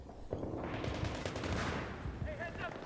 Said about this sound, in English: I thought someone was shooting at him.